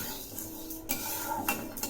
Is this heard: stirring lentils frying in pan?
yes